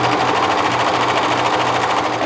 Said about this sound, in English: Today I think I'm going to top stitch it.